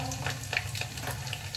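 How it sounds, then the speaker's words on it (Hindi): Cumin, garlic, cloves, coriander and other whole spices fry in a hot pan for a shahi paneer base, giving a steady, close sizzle with crackling pops throughout and no talking. "अब इसमें हम डालेंगे अपने सबसे पहले जीरा और जो भी हमारे खड़े मसाले"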